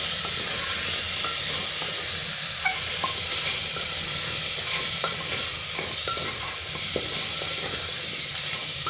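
Potato curry seasoned with cumin powder and salt fries in a pan with a steady hiss, broken by a few soft spoon taps and stirring scrapes, heard up close without speech.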